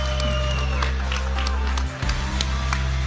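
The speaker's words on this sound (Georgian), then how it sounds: "აპლოდისმენტები ჩვენს რინგ გოგონებისთვის." A crowd at a bare-knuckle fighting event applauds and cheers under a steady low hum, with scattered claps and whoops continuing throughout.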